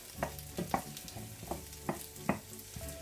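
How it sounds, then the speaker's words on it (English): Onions sizzle in a frying pan, with a utensil scraping and stirring at irregular intervals, close by and fairly quiet. "Okay, so our onions are sizzling nicely."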